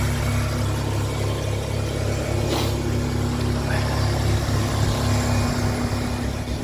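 A Vauxhall Vectra V6 engine runs steadily at idle, a constant low hum with faint mechanical texture, heard close and continuous with no talking.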